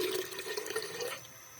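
Tap water runs over finely chopped onion, garlic and ginger being rinsed in a home kitchen, a short, faint splashing stream that trails off near the end.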